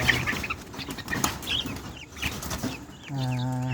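Mixed breed backyard chickens clucking and calling close by, with irregular squawks and one clear drawn-out harmonic cackle near the end over rustling pen noise.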